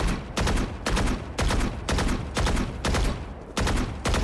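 Rapid bursts of video game gunfire at an aim practice wall, roughly eight evenly spaced volleys of automatic shots, close and loud, with no talking.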